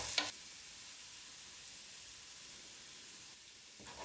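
Onions, bacon, garlic and paprika sizzle softly in a pan for goulash, a faint steady frying hiss with brief scraping stir sounds at the start and the end.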